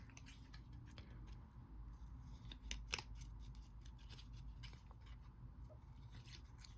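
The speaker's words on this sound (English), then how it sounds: "just kind of move your scissors back and forth with the regular green paper" Scissors snip through regular green paper while a pop-up card is made, a run of small crisp cuts in a quick irregular rhythm, close but soft against a low steady room hum, with no talking.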